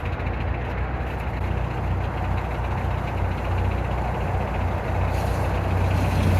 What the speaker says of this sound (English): I'll give myself a couple of more revs